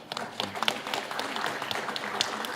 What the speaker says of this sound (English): please give applause to all speakers.